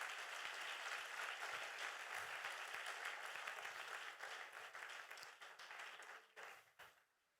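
A church congregation applauds, a dense, loud wash of many hands clapping together that holds steady, then thins into scattered claps and stops.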